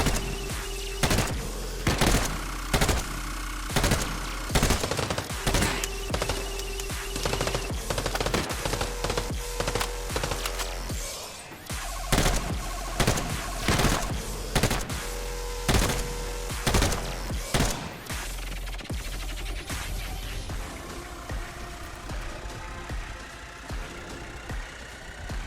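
Assault rifles trade fire in an Arena Breakout firefight: loud, close bursts of rapid shots repeat in short strings with brief pauses, over a continuous low engine-like background rumble.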